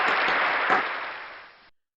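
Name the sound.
applause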